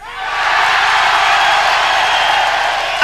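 A live radio show audience breaks into sustained applause, dense and loud throughout, rising quickly and holding steady with a bright wash of many hands clapping.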